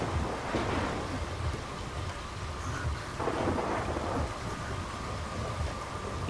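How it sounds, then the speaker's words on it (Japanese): Thunder rolls over steady rain in the video game Fatal Frame: Maiden of Black Water, deep rumbles swelling and fading across a constant wash of downpour, moderately quiet with no talking. "また雷か。"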